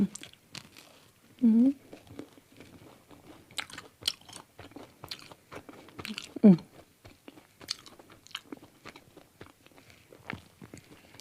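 Biting and chewing bread topped with blue cheese: close, crunchy bites and moist chewing repeat throughout, with a couple of short voiced murmurs between them.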